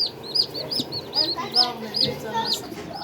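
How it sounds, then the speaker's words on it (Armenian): Day-old chicks fresh from an incubator peep in rapid, repeated high chirps, close by, with soft background rustling and low sounds beneath. "մեկ օրական ճուտիկները տանում ենք կերակրելու"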